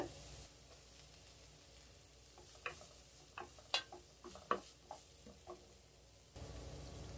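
Faint sizzling of onions frying in hot oil in a kadai, with scattered soft pops and crackles.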